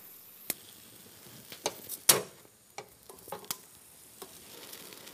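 Red peppers roasting in a sealed vessel give off scattered sharp pops and crackles over a low sizzle, with one louder burst near the middle, and no voices.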